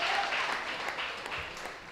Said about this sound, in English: With a massive round of applause there as well.